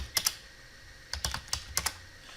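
Sharp keystrokes tap on a computer keyboard as a password is entered, a pair of clicks then a quick cluster of about six more, close and quiet with no talk.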